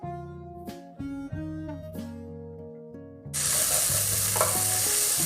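Music plays at first, then diced calabresa sausage abruptly starts frying in a pan, a loud, bright, continuous sizzle that stays under the fading music.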